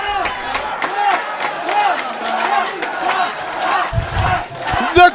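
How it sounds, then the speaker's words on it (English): Indy wrestling arena crowd chants and roars in rhythmic unison, loud and close for about five seconds, with a few sharp thumps near the end and commentary voices mixed in. "The crowd fully behind the O.J.M.O."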